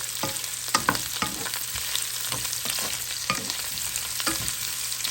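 Pork adobo frying in a pan while being stirred, a steady close sizzle broken by repeated scraping strokes of a spoon against the pan, with no talking.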